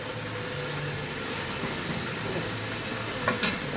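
Onions frying in a pan with tomato sauce, a low steady sizzle with faint scraping from stirring and a couple of brief clatters near the end, no talking.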